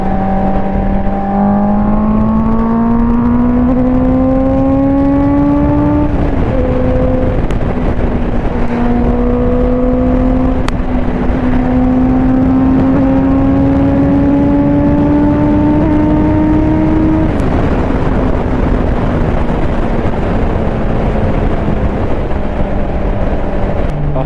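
Honda CBR650R inline-four sport motorcycle accelerating hard through several gears, its loud engine note climbing steadily with brief dips at each shift, close and continuous for the whole stretch with no talk.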